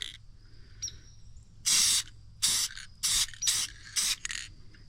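Bursts from a spray paint can coat the bottom of a 1964 Coleman lantern. There are about six short hissing blasts, close and fairly loud, with quiet pauses and faint handling noise between them.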